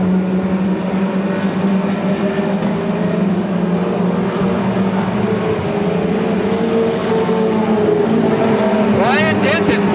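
Stock cars roaring out of the turns at a 1993 Octoberfast race in Lakeport, California, a dense continuous engine drone with cars passing close, under steady race commentary.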